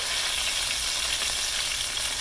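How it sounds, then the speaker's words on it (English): Chopped onion and pepper sizzle steadily in a hot pan while cooking Swiss steak, a loud, continuous close frying hiss with no voices. "throw our onion and pepper in here"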